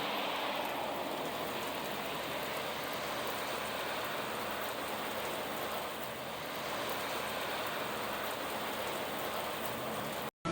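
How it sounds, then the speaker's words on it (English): Steady rain falling during a day of road cycling along the Great American Rail Trail, a dense continuous hiss of drops on surfaces that holds constant throughout with no voices. "We've been riding in the rain all day."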